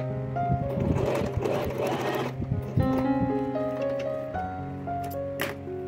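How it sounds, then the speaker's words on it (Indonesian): Sewing machine stitching the inner lining of a crochet wallet, a close steady mechanical whir with rhythmic needle clatter that rises and falls in speed, with a brief louder patch early on. "Pertama kita jahit seperti ini."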